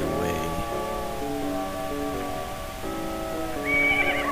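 A horse neighs in The Legend of Zelda: Majora's Mask, a loud, close whinny that falls in pitch, then rises again briefly at the end over steady game music.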